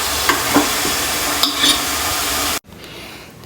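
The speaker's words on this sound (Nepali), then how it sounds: "त्यसपछि यसरी रातो हुने गरेर भुटेर राख्ने" Meat sizzling and being stirred in a hot pan while it is fried until reddish for homemade achar, a continuous close hiss with a few scraping stirs, then cutting to quieter sizzling.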